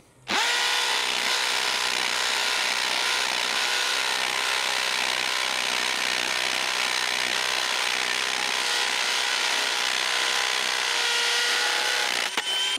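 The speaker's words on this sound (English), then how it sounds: "now can this thing hammer drill? We're in hammer. We're in speed 2. This is a 3/8-inch bit." Bosch 1330c hammer drill in hammer mode at speed 2 driving a 3/8-inch bit, a loud, continuous, close-up grinding roar that runs steadily for over twelve seconds before cutting off.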